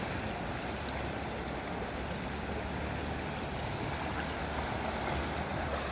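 A rain-swollen stream rushes in a steady, dense roar of churning water, loud and continuous throughout with no voices.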